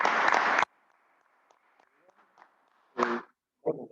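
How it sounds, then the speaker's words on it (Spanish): Brief burst of applause at a political meeting of Radical party members in La Calera, cutting off abruptly, followed by quiet room murmur and later short bursts of a voice speaking. "creo que el primer aplauso está clarito"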